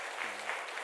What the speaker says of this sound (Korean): 박수로 격려하도록 하겠습니다.